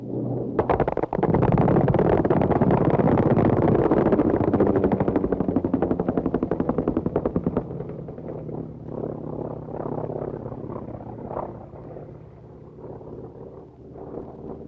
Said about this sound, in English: 50-caliber machine guns firing at approximately 750 rounds per minute, as demonstrated by this North American Trojan trainer